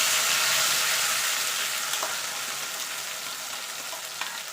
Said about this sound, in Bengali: দিয়ে এটাকে ভালো করে কষিয়ে নেবো টমেটো আর আদার কাঁচা গন্ধটা যাওয়া পর্যন্ত